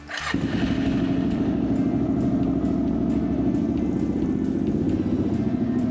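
A Suzuki LTZ400 ATV engine cranks and catches, then settles into a steady, rough idle that runs loud and close without a pause.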